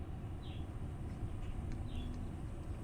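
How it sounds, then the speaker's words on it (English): Pet birds chirp faintly in a cage in the background, two short high calls standing out above a steady low rumble of room or outdoor noise. "No, those are my birds. Those are my birds in the background."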